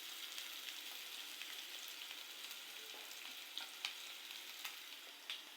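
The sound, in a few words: frying onion and garlic in a pan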